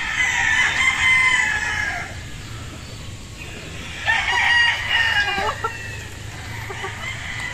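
A gamefowl rooster at Blueblade Gamefarm crows twice, a long drawn-out call and then a second one a few seconds later, fairly close, with faint farmyard background between.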